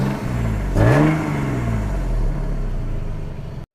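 A Toyota Mark II Blit JZX110W station wagon engine given one short blip of the throttle, the note rising sharply then falling back to a steady idle before cutting off, close and alone.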